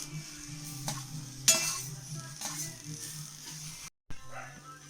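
Chopped red hibiscus flowers tossed into hot coconut in a pan for a thoran, with soft stirring scrapes and a light sizzle, a few sharper utensil knocks, and faint talk in the background.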